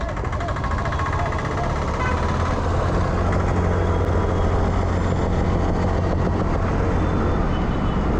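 A new TVS Jupiter scooter accelerates on the road, its engine hum rising steadily beneath heavy wind rush for several seconds.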